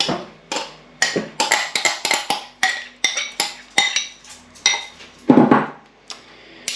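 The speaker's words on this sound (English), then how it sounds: "Now we're just going to mix in and fold in this juice." Spoon clinks and scrapes against a bowl as juice is folded into a thick double-cream gooseberry fool, a quick run of close, loud, rhythmic taps and knocks with brief pauses.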